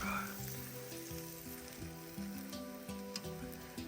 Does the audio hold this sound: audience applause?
no